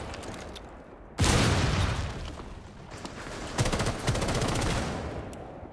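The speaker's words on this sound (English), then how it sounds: "Heard a shotgun." Shotgun blasts in Rainbow Six Siege, a loud sharp burst followed by a sustained rattle of gunfire, then another cluster of reports midway, with no talking.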